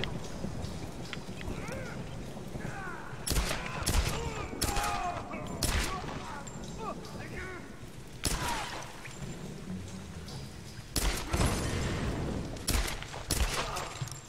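Gunfire from the video game Tomb Raider: several sharp shots burst out in separate clusters over a steady rain-like background, with people talking over the game.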